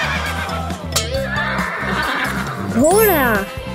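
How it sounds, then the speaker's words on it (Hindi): A horse on a farm gives a loud, close whinny near the end, its pitch rising and falling, while people talk over steady background noise. "घोड़ा।"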